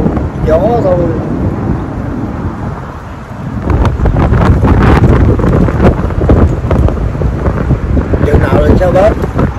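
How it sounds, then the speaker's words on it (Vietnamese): Strong gusty wind buffets the microphone with a heavy low roar that swells and stays loud throughout, while people talk over it. "gió nó thổi chứ trời đâu có lạnh luôn gió thôi"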